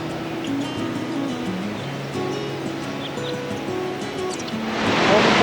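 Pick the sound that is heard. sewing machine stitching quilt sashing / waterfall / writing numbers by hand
waterfall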